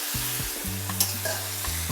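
Squeezed cabbage and onions for fennel seed sauerkraut sizzle loudly in a hot pan, stirred with scraping strokes over a low, steady hum.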